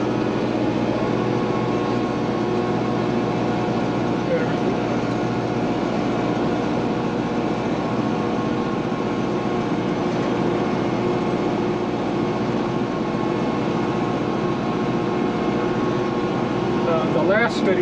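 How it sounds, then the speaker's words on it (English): A tractor-mounted snow blower runs in a steady, loud mechanical drone that holds throughout, with a faint voice barely audible beneath it. "This blower is absolutely fantastic."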